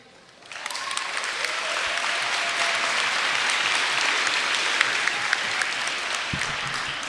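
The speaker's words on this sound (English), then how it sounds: "Please give a round of applause to all parents in here." Sustained audience applause at an 8th grade moving-up ceremony, starting abruptly after a brief quiet moment and holding steady as a dense wash of many hands clapping in a large room.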